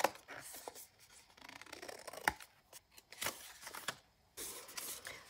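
Scissors snip through a card for a junk journal, quiet close crisp cuts in irregular short bursts with paper rustling between them and no talking.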